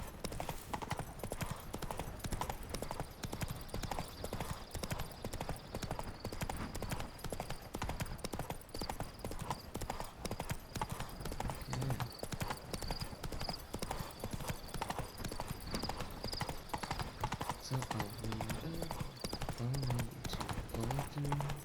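Horse hooves clip-clop steadily across the ground in The Witcher 3, a continuous rhythmic gait under game music and ambience, with occasional brief whinnies near the end.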